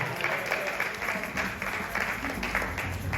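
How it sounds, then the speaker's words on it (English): A church congregation gives a round of applause during a youth service, a steady wash of many hands clapping together that holds at an even level for a few seconds with no voices standing out. "Give God a round of applause."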